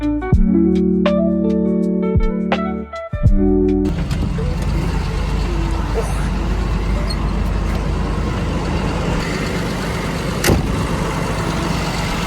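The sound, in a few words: MAN TGM 18.250 truck driving off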